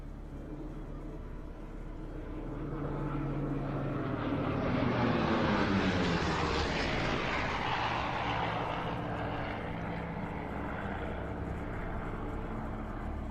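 A propeller aircraft begins an airshow display loop during practice at Leszno, its engine drone rising from a distant hum to a fuller roar as it passes overhead, then easing slightly, with no talk.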